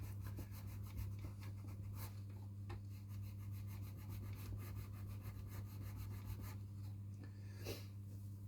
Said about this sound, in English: The Vaseline rubs straight off the paint.